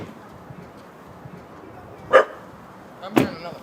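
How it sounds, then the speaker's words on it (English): A dog barks from under some steps outside, two short barks a second apart, heard close over steady background murmur. "I'm hearing another bark from over here."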